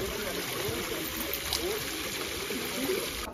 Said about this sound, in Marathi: उतरता उतरता मला असं झरा भेटलेला आहे.